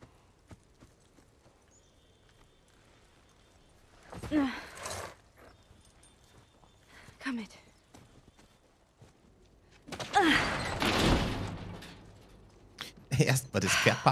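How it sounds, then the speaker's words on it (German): Horse hooves walking in The Last of Us Part 1, soft scattered clip-clop steps heard faintly amid quiet game ambience, with a few louder bursts of movement and breathy sounds. "Erst mal das Pferd parken in der Garage,"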